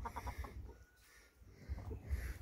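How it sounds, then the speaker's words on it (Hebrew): Chickens and a rooster feeding at a trough, soft clucking and low murmurs close by, rising in bursts at the start and end with a quieter pause in between. "הנה, תראו, תרנגול תפס חתיכה,"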